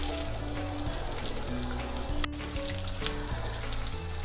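Masala fish frying in a pan, a dense continuous sizzle and crackle with scattered pops, close and steady throughout, alone without voices.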